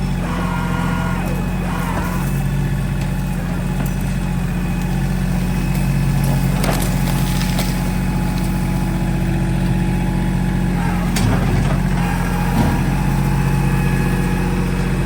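An LS MT226E compact tractor runs steadily at a mid-pitched engine drone while pushing down a big tree, with a few louder creaks and cracks of wood near the middle and end, close and continuous throughout.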